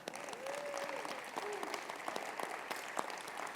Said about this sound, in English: I think you all need to applaud him.